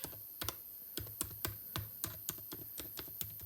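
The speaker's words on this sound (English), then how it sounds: "when I type it, my email address" Keys clatter on an Apple MacBook Air laptop keyboard as an email address is entered, a quick uneven run of a dozen or so light, close clicks with short pauses and no talking.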